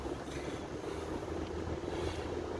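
Steady road noise inside a moving car: a continuous low rumble with broadband hiss, even in level throughout and with no talking.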